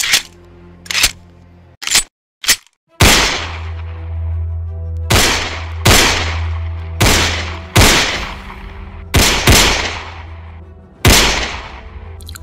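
Repeated loud gunshots from a snatched gun fired at tin can targets, a rapid string of sharp cracks with reverberating tails, several spaced shots following early quick bursts, no talking.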